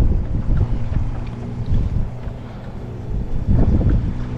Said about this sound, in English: It's good to see out here on that windy shoreline.